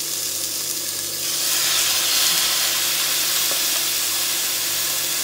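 Beef shank lowered into a hot pot for Filipino bulalo soup, a steady loud hiss and sizzle that swells after the first second and holds, with no talking.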